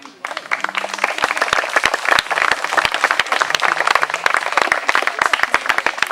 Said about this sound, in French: m'applaudissez pas moi, applaudissons l'arbre.